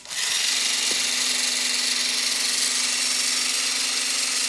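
A HYTORC centerlock wheel gun runs steadily, tightening a centerlock wheel nut to 443 foot-pounds with a loud, continuous high-pitched mechanical whir and a constant low hum throughout.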